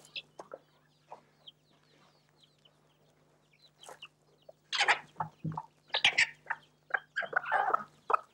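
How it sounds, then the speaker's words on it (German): Free-range chickens at an open-air museum cluck and squawk nearby in scattered bursts, quiet at first then growing louder and busier toward the end, over a faint low hum. "Wo können Hühner heute noch so frei herumlaufen, im Sand scharren und baden?"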